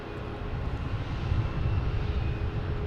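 An Airbus A320 departing Boston Logan Airport, its engines giving a steady, broad low-pitched roar that holds at moderate distance for a few seconds.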